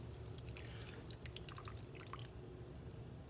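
Water dripping and squishing out of zucchini squeezed by clean hands in a kitchen, a steady close run of small wet drips and trickles over a low background hum.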